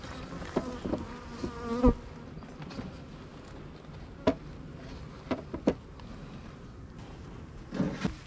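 Bees buzz steadily around a hive as it is closed in a marsh setting, their drone continuous and close, punctuated by several sharp knocks and thuds from the hive being handled.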